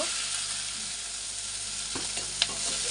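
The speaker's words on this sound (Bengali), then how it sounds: "আমার চিংড়ি মাছ ভাজা হয়ে গেছে লাল লাল করে" Prawns frying in oil in a wok over a stove fire, a steady close crackling sizzle with a sharp pop near the end, no voices.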